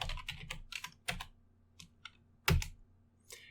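Close keystrokes on a computer keyboard, typed in short irregular bursts with a few gaps and one louder key strike near the end, while someone enters a string expression during a programming lesson.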